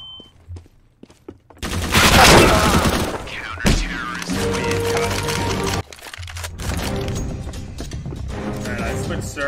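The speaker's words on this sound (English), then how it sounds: "Flashbang." In the video game CB:RO a flashbang detonates with a sharp, loud bang and a burst of noise, then the gameplay noise rings on with scattered cracks and a few more sharp hits.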